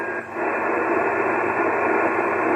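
Radio receiver hiss after the signal drops out entirely, a steady band-limited wash of static that stays level after a brief dip at the start.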